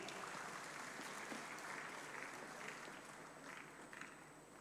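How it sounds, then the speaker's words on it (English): Steady applause from an audience at a graduation ceremony, a dense wash of clapping that holds for several seconds and slowly fades a little toward the end. "Let's put our hands together and give them a round of applause."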